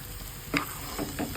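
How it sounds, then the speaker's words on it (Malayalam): Fried chicken pieces are stirred into a simmering curry in a pan, giving a soft steady sizzle with a few brief scraping clinks of the spoon, close and quiet, with no talking. "ഇനി ഇത് ഞാനിവിടെ ചിക്കൻ ഫ്രൈ ചെയ്തെടുത്തിട്ടുണ്ട്, അതും കൂടി ചേർത്ത് കൊടുക്കാം"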